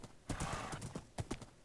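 A horse's hooves clip-clop in an uneven rhythm of sharp knocks, fairly close and quiet, with a few soft thuds between the strikes.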